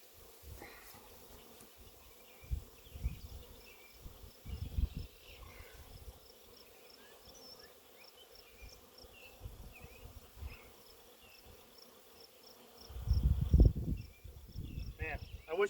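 Honeybee hive humming and rumbling steadily while the boxes are stacked back together, a faint continuous buzz with bumps and knocks of handling, louder clunks near the end.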